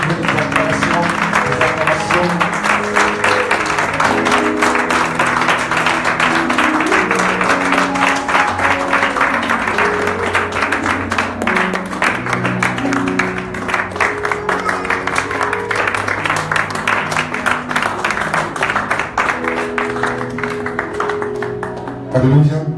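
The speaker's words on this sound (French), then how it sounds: "Dieu déjà nous donne des acclamations." A church congregation applauding and cheering in a dense, steady wash of clapping that lasts over twenty seconds, with voices and tonal sounds mixed underneath.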